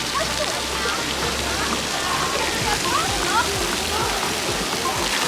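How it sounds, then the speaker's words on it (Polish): Steady splashing water pours from a pool bucket and spatters loudly, with people talking and shouting over the constant rush. "Tam to teraz będzie leciała woda."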